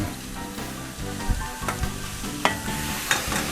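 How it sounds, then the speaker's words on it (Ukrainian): Onions and mushrooms fry in a pan while quail are prepared for the grill, a steady sizzle with scattered clicks and stirring knocks, close and continuous with no talking. "Поки цибуля не згоріла, відправляємо грибочки."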